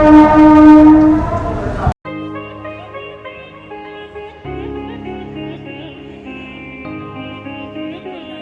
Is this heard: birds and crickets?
no